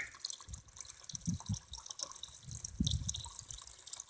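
Water from a partly developed spring trickles and drips quietly, faint irregular splashes and gurgles heard up close with light background hiss and no talking.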